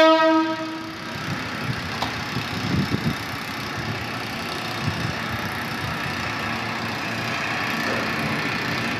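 An Indonesian KRL electric commuter train returning to the depot rumbling past, with a brief horn at the start and a steady rolling clatter that continues.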